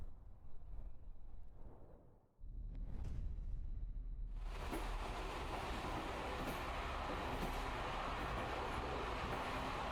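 Steady rumble and rhythmic rattle of a train riding on the rails in the video game Aviary Attorney, rising loudly after a brief quiet lull and carrying on evenly, with no voices.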